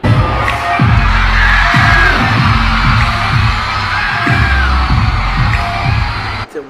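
Fans at an outdoor festival concert in Agusan del Sur scream loudly and continuously while the band plays, with a thumping bass beat under the crowd noise.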